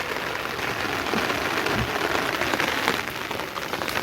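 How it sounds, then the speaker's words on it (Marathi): Steady monsoon rain pours down on a farm field, a dense, even hiss of drops hitting the ground that keeps going without a break, close and fairly loud. "पाऊस पडतो आहे हे बघा ओलं झालं आहे"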